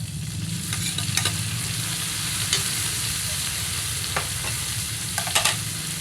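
Tomatoes sautéing in a pan give a steady, close sizzle that runs the whole way through, with scattered scraping and stirring clicks on top and no talking.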